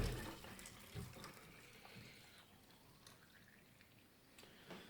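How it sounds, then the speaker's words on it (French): A litre of water poured into a bottle, a faint trickling, gurgling stream with small splashes and uneven surges over several seconds, heard close and quietly. "je verse dans ma bouteille 1 litre d'eau"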